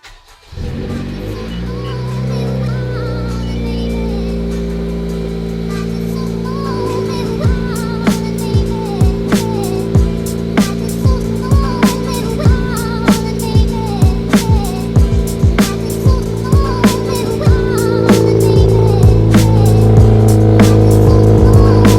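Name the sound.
car engine starting and revving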